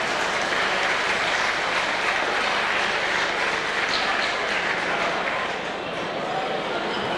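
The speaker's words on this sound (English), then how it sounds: "a very big warm round of applause for him too" A warm round of applause from an audience greets a federal member of parliament for Ballarat at a formal event, steady, even clapping filling the hall for about seven seconds with a voice faintly audible beneath it.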